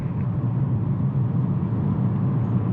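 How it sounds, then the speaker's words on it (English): A 2019 Volvo S60 T5 Inscription with its four-cylinder engine, heard from inside while driving as a steady low engine and road rumble, even and unbroken throughout, no talking. "it feels like you can hear it. You can tell it's a 4-cylinder."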